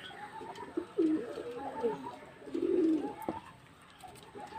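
Pigeons coo in low, rolling bursts while eating cold rice on a hot summer day, a few close calls rising and falling against soft background noise.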